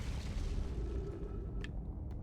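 An orbital cannon fires in the video game Outer Wilds, a deep continuous booming rumble that carries through the whole stretch, with a couple of brief sharper bursts near the end.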